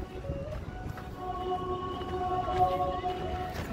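An interactive sound sculpture in Seattle emits sustained electronic tones that hum and warble over a noisy outdoor background, rising and shifting in pitch.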